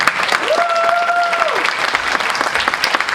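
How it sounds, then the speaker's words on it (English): A concert audience at a Cape Coral spring concert claps steadily for a graduating senior, the dense applause running throughout, with a sustained whistle-like tone rising above it early on. "Round of applause for Andy."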